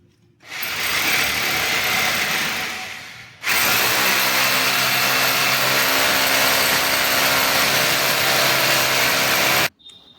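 A power drill bores into a ceiling to mount a fan, two loud sustained bursts of whining drilling, a short one then a longer steady run, separated by a brief pause and ending abruptly.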